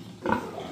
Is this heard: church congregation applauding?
no